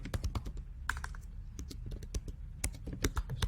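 Code typed on a computer keyboard: quick, close, uneven clicking keystrokes in short flurries, with no talking.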